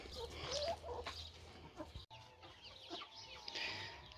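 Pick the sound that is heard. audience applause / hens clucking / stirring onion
hens clucking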